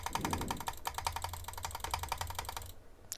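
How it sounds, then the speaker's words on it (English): An office computer mouse is butterfly-clicked in a rapid, steady run of sharp plastic clicks, close and clear for nearly three seconds before stopping, with no talk. "And now I just want to try butterfly clicking."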